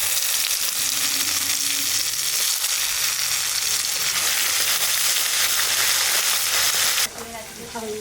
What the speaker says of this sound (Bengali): তো তেলের পর দিয়ে দেবো 5 ফোড়ন, শুকনো লঙ্কা, তেজপাতা।